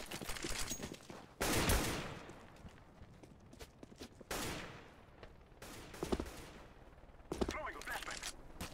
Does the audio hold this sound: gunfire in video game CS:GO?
yes